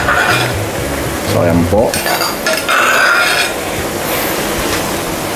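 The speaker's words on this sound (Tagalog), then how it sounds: "Stir lang po natin siya ng mga 1 to 2 minutes." Beef going into a thick mushroom sauce in a pan and being stirred, with scraping and clinking of a utensil against the pan over a steady sizzle, while someone speaks briefly.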